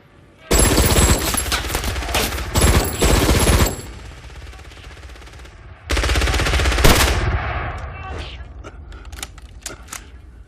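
Machine gun fire in a war movie battle, a loud rattling burst of rapid shots, a pause, then a second sustained burst that trails off into scattered shots.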